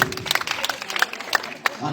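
An audience at a comic compering and prize-giving show bursts into quick, crisp clapping that runs under a voice throughout.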